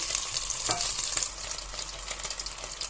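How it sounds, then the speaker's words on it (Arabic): Lamb tail fat fries in ghee while being stirred, a close, continuous sizzle with scraping stir strokes throughout and no talk. "وابتدي اقلب لغايه لما الليه تحمر"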